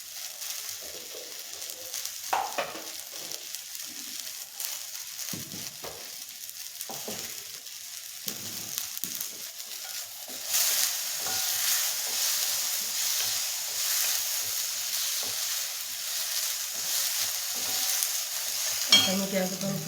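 Onion, coconut, garlic and ginger masala frying in a pan for a bhaji, with a steady sizzle and occasional stirring scrapes, growing louder and denser in the second half.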